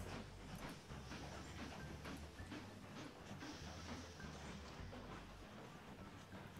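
In the railway-building simulation game Mashinky, a passenger train rolls into a station with a faint, steady low rumble and soft rail clatter that continues without a break.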